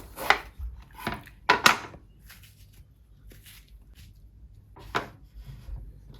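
Knife chopping through fresh Sri Lankan bitter gourd for a salad, a few sharp separate cuts against a board with quiet gaps between, close by with no talk.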